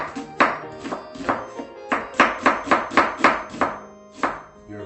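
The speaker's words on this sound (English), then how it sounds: "Cut the onion in half, and basically" A knife cuts through an onion on a board with a quick series of crisp, close chopping strokes, roughly a dozen in an uneven rhythm, each a sharp thunk with a short tail, and no voices.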